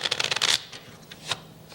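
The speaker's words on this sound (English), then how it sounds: "Now, this is an honest shuffle." Playing cards riffled in an honest shuffle during a comedy-show magic bit, a fast rattling flutter of cards for about half a second, then a couple of softer, shorter riffles, close and fairly quiet with no voices.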